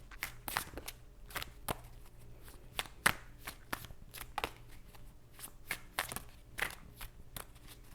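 Tarot cards are shuffled in a steady run of crisp, close riffling bursts repeating at a quick, uneven rhythm, fairly quiet, with no talk over them.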